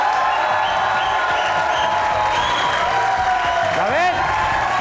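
A studio audience at a comedy talk show claps and cheers in a steady, loud wash, with voices and a whoop rising over the applause toward the end.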